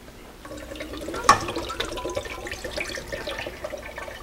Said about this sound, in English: I'll add the 14 ounces of water.